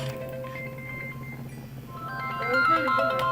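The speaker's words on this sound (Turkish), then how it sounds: "Telefon da çalıyor." A phone rings during a Turkish Minecraft gameplay session, its electronic tone rising near the end over steady game music.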